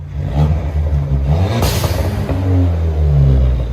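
Ford Fiesta ST on its stock exhaust revving steadily at close range, with a sharp hissing burst from the blow-off valve standing out above the engine drone.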